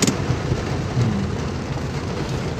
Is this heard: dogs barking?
no